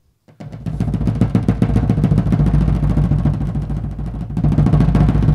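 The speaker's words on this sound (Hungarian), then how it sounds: "Megszólal a muzsika a nagy dobbal." A large folk drum played by a Hungarian folk ensemble gives a loud, close, booming roll of rapid beats that builds after a short silence and rumbles on continuously like thunder, with no voices.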